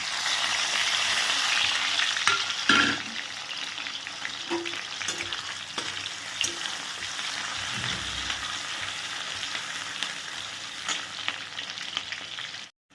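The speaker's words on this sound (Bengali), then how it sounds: "সর্ষের তেল দিয়ে দিচ্ছি আধা থেতো করা এলাচ, দারচিনি, লবঙ্গ, আর দিয়ে দেবো এর মধ্যে হচ্ছে অল্প একটু কোচানো পেঁয়াজ আর টমেটো" Crushed cardamom, cinnamon and cloves fry in mustard oil with onion and tomato, making a loud, steady sizzle with scattered clatters of stirring before it cuts off abruptly.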